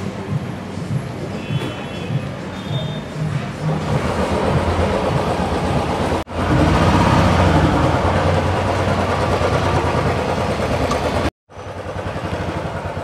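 Royal Enfield Bullet motorcycle riding along a road: a steady, loud engine and wind rumble that continues throughout, briefly cut twice, with no talking.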